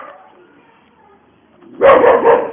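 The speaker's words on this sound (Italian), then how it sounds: "Il mio cane abbaia come un pazzo, perché è pazzo, non per altro." A dog barks loudly and close up in a short burst of a few rapid barks, following a faint stretch of murmuring speech.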